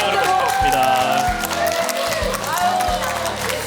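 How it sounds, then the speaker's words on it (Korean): A studio audience on a TV quiz show claps steadily through the whole stretch at moderate distance, the applause blending with a music bed and lively crowd noise. "박수 한번 보내주십시오"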